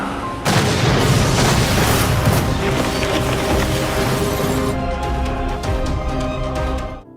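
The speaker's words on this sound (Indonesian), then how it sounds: "Namun lagi-lagi mobil meledak." A car blows up in a drama scene with a sudden loud boom, followed by a sustained roaring, crackling blast that holds for several seconds before cutting off abruptly.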